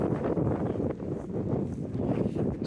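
Wind gusts buffet tents at a wild camp on Picws Du mountain, a steady low rumbling blow with fabric flapping and rustling close to the microphone, without speech.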